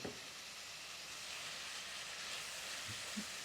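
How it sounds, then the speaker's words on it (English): Curry powder and spices frying in oil for a chickpea, pumpkin and vegetable curry give off a steady, soft hiss, faint and even throughout, with a couple of light clicks near the end. "Let's leave this to fry up"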